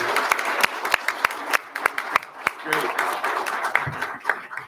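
A school board meeting audience applauds a newly promoted assistant principal, with sharp individual claps standing out over a steady crowd clapping that lasts the whole stretch, and a few voices heard in the background.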